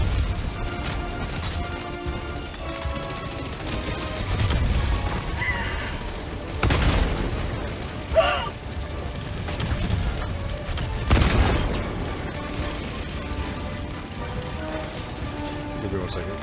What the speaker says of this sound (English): That's a walking barrage on my position!